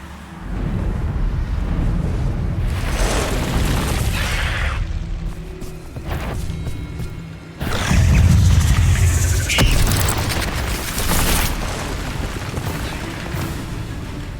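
A Bombarda spell detonates in Hogwarts Legacy, a loud booming explosion with crashing debris, followed by a second heavy blast and rumbling aftermath, no voices.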